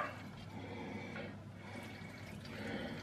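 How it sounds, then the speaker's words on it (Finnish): Water is poured into a pot of borscht-style sausage soup, a soft, continuous splashing and trickling that is fairly faint and close, with no talking. "Sitten mä laitan sinne kyllä tässä vaiheessa jo ihan surutta vettäkin lisää."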